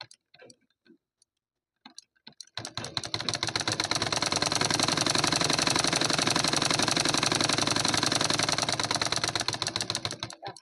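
A sewing machine runs steadily, stitching the folded edge of a cotton blouse lining with a fast, even mechanical chatter after a few scattered clicks and a brief pause at the start.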